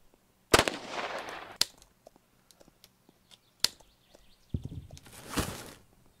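Gunfire in the video game Road to Eden: a few sharp, sparse shots and short bursts separated by near-silent gaps, with faint clicks between them, at moderate volume.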